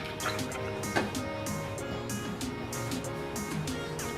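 Wet ingredients for buñuelos batter are poured into a bowl of dry ingredients: a steady liquid pour with faint drips and light clinks, continuous and close.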